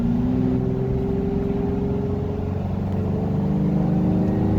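Toyota Tacoma pickup fitted with a K&N cold air intake accelerating hard on the road, a steady loud engine drone with rising harmonics heard from inside the cab, continuous throughout.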